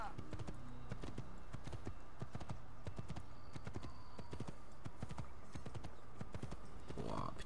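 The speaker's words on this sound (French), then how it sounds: "Allez, monte sur le cheval." Horse hooves clip-clop steadily in an Assassin's Creed video game as the horse is ridden, with a brief whinny near the end and someone talking over it.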